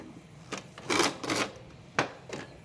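An old Sears, Roebuck and Company sewing machine is handled, giving a few short, scattered rasping and clunking knocks, separated by pauses. The sounds are close but quiet.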